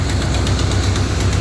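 The engine of a 1977 Corvette with a replaced alternator runs steadily close by, a loud, even, low rumble with a faint rhythmic pulse and no voices.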